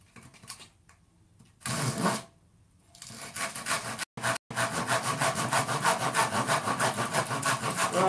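Hand-sawing through wood, a steady rhythmic rasp of quick back-and-forth strokes after a few short starts and pauses, close and loud.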